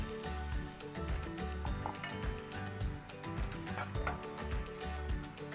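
Tomato paste frying in hot oil in a pan, a steady loud sizzle throughout with occasional scraping and clinks of a utensil stirring, close and continuous with no talk.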